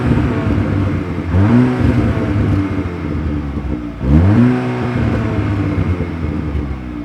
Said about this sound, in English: Now this exhaust pops, burbles, and has a lot of bass to it